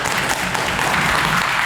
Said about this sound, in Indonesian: Tepuk tangan dulu kelompok 1.